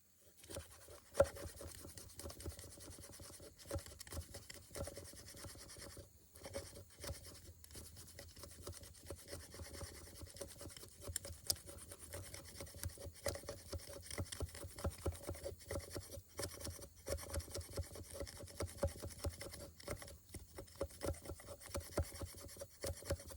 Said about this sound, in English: doing some feather sticks with the Dawson Knives Reaper